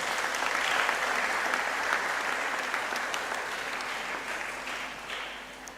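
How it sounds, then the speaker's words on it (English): Audience applause at a university inaugural lecture in Ghana, a steady, fairly soft wash of many hands clapping from a hall crowd that slowly tapers off. "we can applaud for that"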